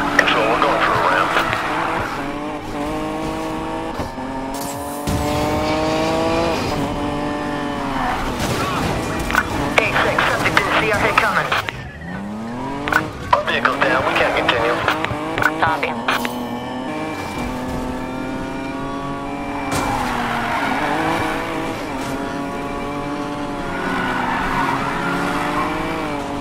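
Nissan Fairlady racing through a police pursuit in Need for Speed Payback, its engine revving up and down through gear changes with tire squeals, while police radio chatter runs over the top.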